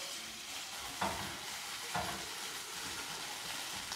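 Udon noodles, about eight ounces, fry in sesame oil in a pan while being pressed into a noodle cake for pan-seared scallops, a steady broadband sizzle with two soft thumps as they are pushed down.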